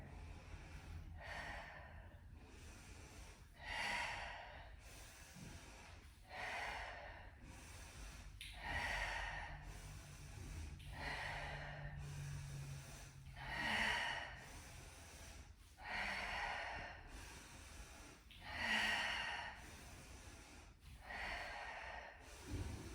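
Slow, steady breaths in and out during a core yoga workout, roughly a dozen soft exhales and inhales in even rhythm, close and quiet with no talking.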